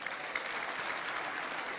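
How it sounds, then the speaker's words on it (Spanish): A church congregation applauding the Lord after a sermon, steady massed clapping at moderate distance, fairly faint and continuous throughout with no speech over it. "Un aplauso al Señor."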